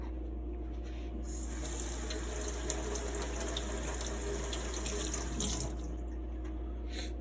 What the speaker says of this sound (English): I just put this and then wash this underneath the sink